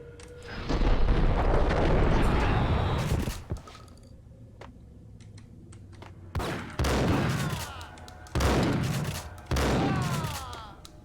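Gunfire in the Max Payne game: a long, loud burst of rapid shots, then a quieter pause, followed by several sharp, separate volleys, each ringing out briefly.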